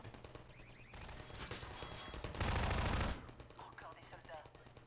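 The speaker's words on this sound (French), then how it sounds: "La tourelle qui tire à l'infini" Automatic turret in the Half-Life 2 video game firing continuously, a dense loud stream of rapid gunfire that swells to its fullest burst midway before easing back under ongoing combat noise.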